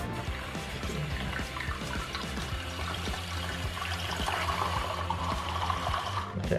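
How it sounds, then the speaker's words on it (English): Tap water runs steadily into a balloon being filled, a continuous close trickling and gushing flow with small bubbling variations and no talk over it. "Let's go and fill the water balloon up."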